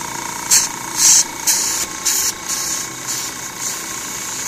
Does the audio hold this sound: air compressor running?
yes